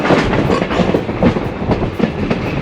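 A museum rail car rolls along the tracks at the Southern California Railway Museum, its wheels giving a steady, loud clickety-clack with a rumbling undertone close by.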